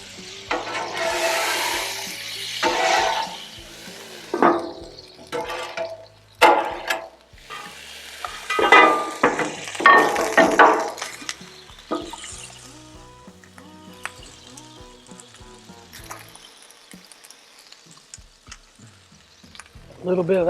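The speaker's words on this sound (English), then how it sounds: "I'm going to put a little bit of water down in here. We'll let that steam help heat that up." Water poured into a hot pan with cooked pork for a pressed Cuban sandwich, loud bursts of sizzling and steam hiss with stirring clatter, easing to quieter crackling near the end.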